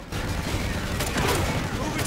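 Pistol shots from the Ainsley in Call of Duty Ghosts, a dense run of loud cracking reports in close succession, with a voice partly mixed under the shots.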